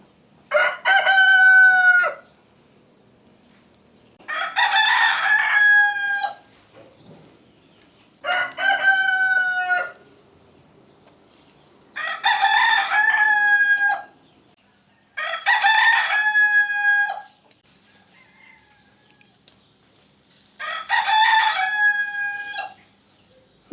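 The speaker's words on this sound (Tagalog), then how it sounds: "Minuto po dito tumitilawak yung manok." A rooster crows six times at even intervals of a few seconds, each call loud and close with long, clear notes, and a faint background hum fills the gaps between the crows.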